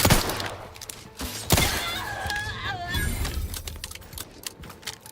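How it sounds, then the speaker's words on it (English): Gunfire from a shotgun and other weapons in The Outer Worlds 2, played on the hardest difficulty, sounds as a few loud sharp shots and bursts. Game effects run between them. "So many shots."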